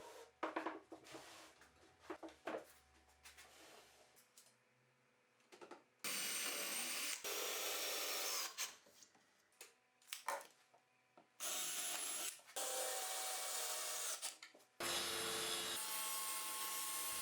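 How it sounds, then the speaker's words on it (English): A saw cuts through thin 5mm MDF board for wardrobe back panels. Bursts of sawing alternate with quiet pauses and lighter rubbing and handling sounds between them. "I cut the back parts of the wardrobe from a 5mm MDF board"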